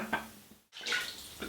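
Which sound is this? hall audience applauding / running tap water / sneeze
running tap water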